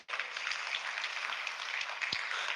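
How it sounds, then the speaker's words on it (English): An audience at a smartphone launch event applauds, a soft, distant wash of clapping that continues evenly for a couple of seconds with no talk. "Can I have a huge round of applause for this feature as well?"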